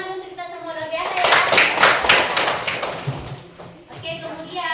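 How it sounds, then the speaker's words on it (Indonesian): A class of schoolchildren breaks into a burst of brisk, loud hand clapping for a few seconds, with a teacher's voice talking before and after it. "tepuk tangan dulu untuk kita semua"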